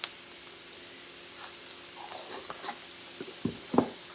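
Bell peppers and onions sauté in a pan with a soft, steady sizzle, broken near the end by a few louder clacks of a utensil against the pan.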